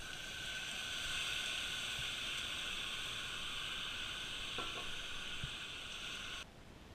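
Melted sugar for a ham glaze sizzles steadily in a pan, a loud continuous hiss with a few faint clicks, cutting off abruptly near the end.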